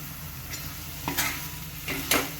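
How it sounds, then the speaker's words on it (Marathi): Ivy gourd (tondli) stirred in a spiced pan over low heat, with a steady low sizzle and two distinct scraping stirs of a spoon, close and moderately loud, without voices. "आता आपण यामध्ये तोंडली घालून घेणार आहोत."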